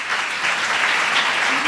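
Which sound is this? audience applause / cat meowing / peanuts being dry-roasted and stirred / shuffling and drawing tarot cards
audience applause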